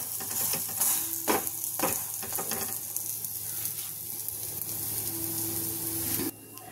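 Paratha made with grated potato, carrot and egg frying on a pan, a steady close sizzle with a few sharp scraping clicks and taps as it is turned, ending abruptly, with no talking.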